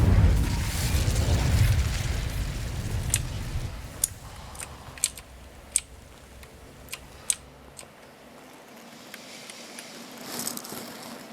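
Incendio fire spell cast on dry vines in the Hogwarts Legacy video game: a loud whooshing burst of flame that fades, followed by scattered sharp crackles and pops and a quieter swell near the end.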